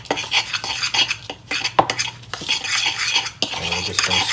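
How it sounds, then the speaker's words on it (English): Seasoning being mixed with cracked black pepper in a bowl for grilled corn: quick, close scraping and clinking of a utensil against the bowl, irregular strokes repeating throughout with no talk. "crack a little pepper in it. Just mix that up."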